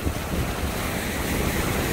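Strong wind roars across the microphone on a rocky Lake Erie shoreline near a lighthouse, with waves washing in beneath it as a loud, continuous rush.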